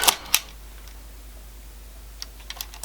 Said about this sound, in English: the Nikon has a horizontally travelling cloth shutter which travels like